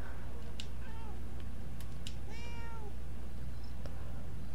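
A cat meows several times in the video game Murdered: Soul Suspect, a few short, clear calls rising and falling over a steady low game hum and a couple of faint clicks.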